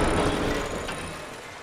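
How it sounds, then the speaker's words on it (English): Rain in ARK: Survival Evolved on PS4, a steady loud broadband hiss of downpour that fills the short clip and fades slightly toward the end, with no voices. "It's kind of foggy out here with this rain."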